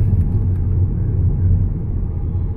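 A motorhome driving on a road in the Black Forest, a steady low engine and road rumble heard from inside the cab, constant and fairly loud with no talking.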